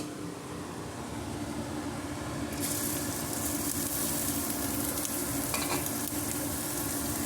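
Chopped onion goes into hot oil and the sizzle jumps to a loud, bright, steady hiss that holds to the end, with no voices.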